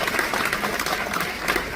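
Conference audience at an obstetrics congress in Paraguay applauding, a soft, even wash of clapping heard from a distance, steady throughout with no clear voices on top.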